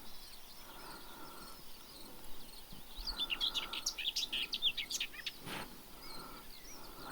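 Rock thrushes call in the open limestone upland of the Causse Méjéan, with a cluster of faint, high chirps and trills over steady insect buzz and light wind, heard at a distance.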